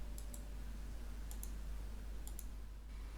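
Computer mouse clicks, three quick pairs of sharp, light double-clicks spaced about a second apart over a low steady hum, close and fairly quiet.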